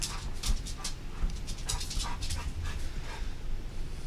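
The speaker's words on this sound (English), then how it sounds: "dog is joining us for the flight" A dog pants in short, steady breaths, close and fairly quiet, on board a small aircraft during a flight, with low cabin rumble underneath.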